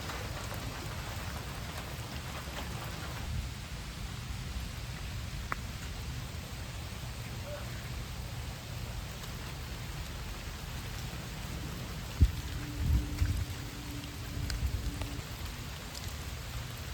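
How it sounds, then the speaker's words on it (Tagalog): Heavy rain pours steadily at the San Rafael River in Bulacan, a dense continuous hiss close by, with a few brief low knocks and rumbles near the end. "Ang lakas ng ulan dito."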